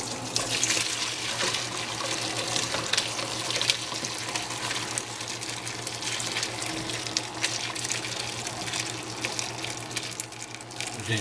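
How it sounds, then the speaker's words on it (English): Running water pours steadily into a stoppered kitchen sink being filled with ice water, a continuous close gushing wash with a low steady hum beneath, no voices. "I'm going to start putting ice water in there."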